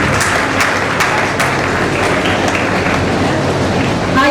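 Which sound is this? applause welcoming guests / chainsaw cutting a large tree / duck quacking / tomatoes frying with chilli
applause welcoming guests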